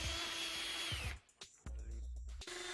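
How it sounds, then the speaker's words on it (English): A power drill fitted with a 16mm auger bit bores into a wooden door, its motor whining loudly, pausing briefly, then resuming with a lower grinding tone close by. "Using your drill and 16mm auger bit, drill holes through the door for your handle spindle"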